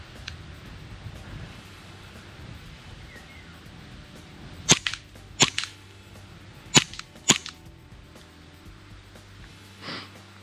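Novritsch SSP18 Glock replica airsoft pistol firing: six sharp, snappy shots, two close pairs then two more, with a faint click near the end over a quiet background.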